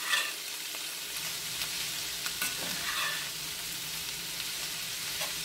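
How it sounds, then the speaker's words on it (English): Cabbage fries in a pan for a basic old-school Southern fried cabbage, giving a steady, fairly quiet sizzle with faint stirring scrapes throughout and no talk. "Because it's called what? Fried cabbage."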